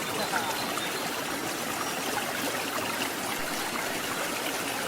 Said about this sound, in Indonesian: inilah yang dinamakan air terjun Watu Ondo